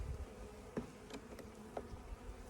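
A faint, continuous hum of honeybees in a weak colony with sparse bees on the frames, with a couple of short, sharper buzzes as individual bees fly near.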